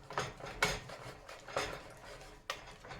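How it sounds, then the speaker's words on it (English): Spoon or utensil stirring a thick, gluey mixture in a bowl, an old cookbook recipe with vanilla; a handful of sharp scraping clinks spaced irregularly, close and fairly quiet. "Stir it up."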